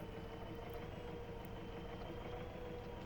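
A tractor pulling a disc harrow across a field of rapeseed stubble in Farming Simulator 22 gives a steady, dense engine drone with broad rumbling noise, unbroken and fairly loud throughout, with no voices.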